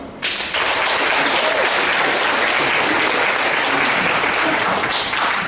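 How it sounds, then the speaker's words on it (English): Warm audience applause in a conference hall welcoming a speaker to the stage, starting abruptly and staying loud and dense throughout with no talk. "Please, warm applause for Antonio"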